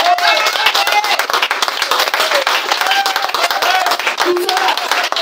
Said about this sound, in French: Est-ce qu'on peut acclamer le président de la famille?